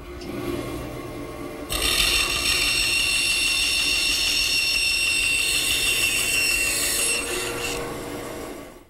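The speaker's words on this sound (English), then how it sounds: "The best way to remove that excess material is at the bandsaw." A woodworking bandsaw cuts excess material from a wooden tenon, giving a steady rasping whine for about five seconds that starts abruptly and then tapers off, close and fairly loud with motor hum underneath.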